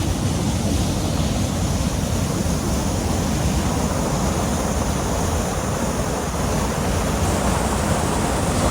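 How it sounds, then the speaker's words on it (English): A steady, loud rush of a waterfall fills the whole stretch without a break, broad and roaring, with no voices over it. "waterfall's actually a little bit bigger than I was expecting"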